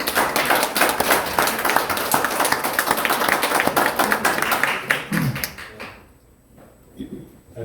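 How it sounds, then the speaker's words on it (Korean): Audience clapping to welcome Dr. Kim Jae-hoon onto the stage at a talk, a dense burst of many hands that thins out and stops near the end, with brief voices. "김재훈 원장님 나오실 때 박수 부탁드립니다"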